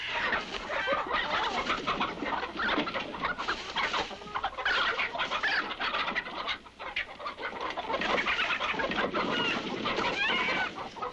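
A dense, loud chorus of chickens clucking and squawking together, continuous and close, with a rooster-like call among them.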